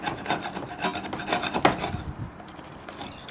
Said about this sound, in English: And just give this a bit of a scrape.